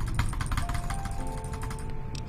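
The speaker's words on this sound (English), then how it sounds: "you can actually hear my mouse clicking now" Rapid, crisp clicks of a new computer mouse picked up by a sensitive microphone during Fallout: New Vegas play, a dense run of close, loud taps over a steady background hum with no voices.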